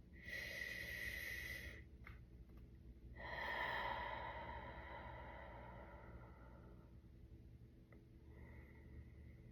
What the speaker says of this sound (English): Take a few slow, deep breaths.